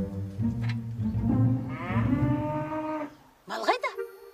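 A cow moos in a long, loud, drawn-out call close by, followed by a short second bellow after a brief pause.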